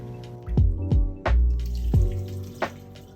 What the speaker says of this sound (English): rinse a cup of rice 4 to 5 times and drain.